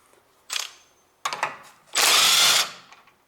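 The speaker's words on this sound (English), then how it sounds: "we need impact driver or pneumatic driver what generates 400 Nm force" Makita impact driver loosening a drive shaft bolt on a Honda Civic: two short bursts of whirring, then a louder sustained rattling hammer of impacts for under a second, close up with no talk.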